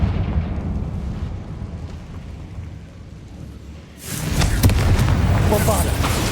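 A Confringo blasting spell explodes in Hogwarts Legacy, a Harry Potter video game: after a quieter rumbling stretch, a sudden loud booming burst erupts and rolls on as a dense crackling blast, with voices heard in the scene.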